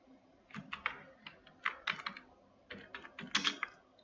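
Quiet, close keystrokes on a computer keyboard come in irregular clusters of quick taps with short pauses between bursts, and nobody talks.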